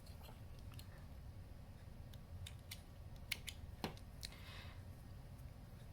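Scissors snipping a yarn tail while crocheting earrings, a few quiet, crisp clicks and snips spread over a few seconds against a low background hum, close and faint, with no talking.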